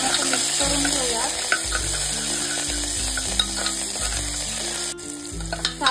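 Coriander, asafoetida and turmeric sauté in hot oil, giving a loud, continuous close sizzle with occasional spatula scrapes and a low hum underneath.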